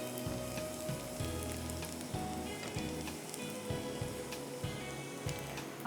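Garlic sizzles steadily as it fries in a pan, a continuous close crackling hiss with no talk over it.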